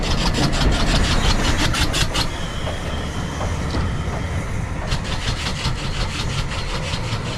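Steam locomotive Victor running on the West Somerset Railway, loud and close, with rhythmic chuffing exhaust beats and rumbling wheels that continue steadily throughout.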